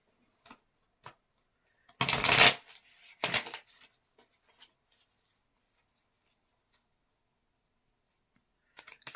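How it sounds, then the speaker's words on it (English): A deck of cards is shuffled close by in two quick riffles, with a few soft taps and handling noises around them. "what we're going to do then is shuffle this deck up."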